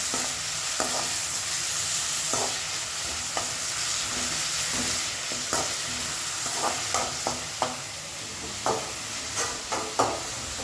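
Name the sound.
onions sautéing in a pan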